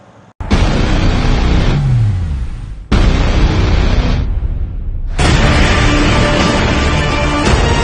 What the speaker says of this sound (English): Let me show you some really cool driving scenes of the 6x6 in the desert.